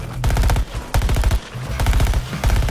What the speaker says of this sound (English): Launch grenade!